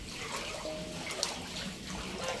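Rainwater flows into a house in Bhandara during heavy rain, a steady wash of running and trickling water with faint drips, moderately quiet and without voices.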